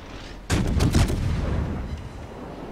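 A loud, sudden naval gun salvo fires from the cruiser Cleveland in the World of Warships video game, followed by a rolling, rumbling decay that fades over a couple of seconds.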